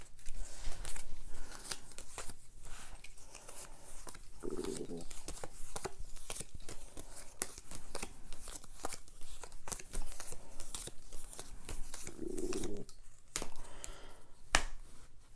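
Uno playing cards are dealt out one by one, giving soft, quick flicks and snaps in a loose rhythm, quiet and close, with no talking.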